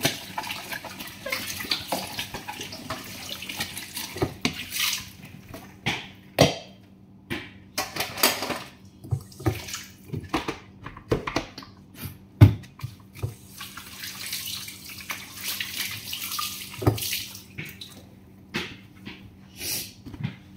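A running kitchen tap splashes in bursts as dishes are washed by hand, with water flow starting and stopping and dishes clinking and knocking in the sink. The sound is close but fairly quiet.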